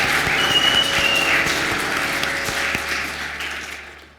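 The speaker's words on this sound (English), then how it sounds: "Big round of applause, please." Conference audience applause for a presenter, steady crowd clapping that fills the room and slowly tapers off over a few seconds.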